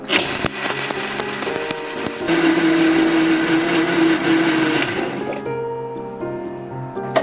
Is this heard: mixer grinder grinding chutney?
yes